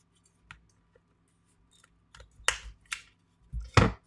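Scissors cut a damp gel-print paper in a few separate crisp snips and clicks, close and isolated in a quiet room.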